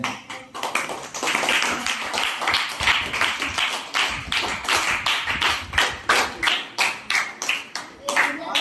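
Students in a classroom clap together in a steady, fast rhythm, with many hands striking close by, loud and continuous from start to finish.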